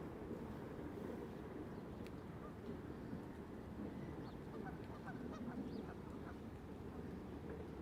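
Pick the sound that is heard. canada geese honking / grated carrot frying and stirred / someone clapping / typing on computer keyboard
canada geese honking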